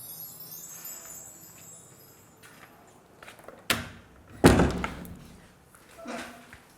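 A house door is opened indoors: quiet rattling, then two loud, close clunks and thuds of the latch and door moving, followed by a softer knock, with faint voices in the room.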